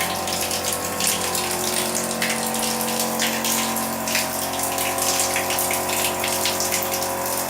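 Water gushes steadily and forcefully from a freshly cleaned, previously clogged tap, a dense continuous rushing splash close by that holds without pause.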